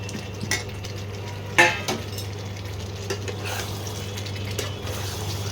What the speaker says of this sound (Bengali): এবারে আমি ভাজা আলুগুলো আস্তে আস্তে দিয়ে দিচ্ছি।